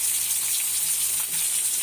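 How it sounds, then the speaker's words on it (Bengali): Water added to a pan of garlic frying with turmeric, chili powder, salt and coriander-cumin powder produces a loud, steady hissing sizzle that lasts the whole moment, with no speech. "কষানোর জন্য একটু পানি দিয়ে দিলাম।"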